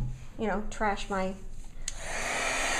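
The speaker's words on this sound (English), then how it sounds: "so I'm gonna turn on the heat gun" A heat gun whirs on for a craft project as a steady airy blowing hum, beginning under a woman's brief speech and carrying on alone after she stops.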